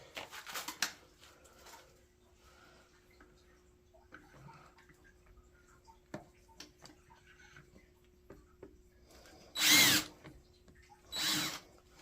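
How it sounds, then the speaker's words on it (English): Two short, loud bursts of a power drill whirring near the end, following quiet handling noises and faint clicks. "Let's drill a hole."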